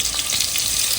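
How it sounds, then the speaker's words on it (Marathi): Chopped onion and curry leaves hit hot oil for a tempering, making a steady, close, dense sizzle with no talk. "तर कांदा कढीपत्त्याची फोडणी, बारीक चिरलेला कांदा, 1 कांदा घालायचा"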